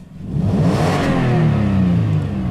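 A Toyota Tacoma pickup's 4.0 engine runs loud and close, rising and holding steady with a rough, rumbling tone and faint ticking from a minor exhaust leak, with no talking.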